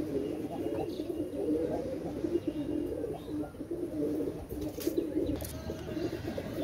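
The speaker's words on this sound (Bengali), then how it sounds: "এখানে 3টা কবুতর আছে।" Several pigeons, including a Chinese Teddy male and a White Golden, coo softly in a steady low murmur that continues through the whole stretch, with no one talking.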